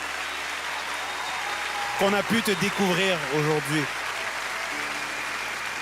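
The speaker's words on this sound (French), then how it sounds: "On les applaudit, on les applaudit." Audience applause on a French talent show audition stage, steady broadband clapping throughout, with a voice speaking over it in the middle.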